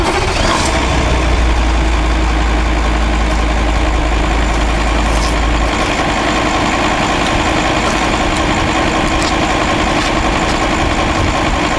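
Volkswagen Phaeton V10 diesel engine idling, a loud, steady low rumble with a smooth, even mechanical hum close by and no talking.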